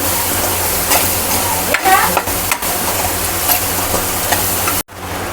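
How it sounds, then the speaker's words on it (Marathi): Chutney spice mix frying in hot oil for a village-style bhindi bhaji, with steady dense sizzling and occasional stirring scrapes, loud and close, cutting off briefly near the end. "चटणीला मिक्स चांगलं तळू देऊया तळून घेऊया चटणी सगळी"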